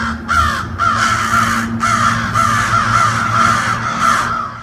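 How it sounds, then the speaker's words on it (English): Crows giving loud alarm caws, a run of about six harsh, evenly spaced calls close by, each call ringing out over a constant low hum in the background. "these cawing sounds that crows make are just so loud and noticeable"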